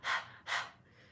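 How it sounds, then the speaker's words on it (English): Panting like a dog as a Kundalini yoga breathing exercise: two quick, strong breaths through an open mouth with the tongue out, close and clear, then quiet. "Panting like a dog is to stick your tongue out and do exactly that"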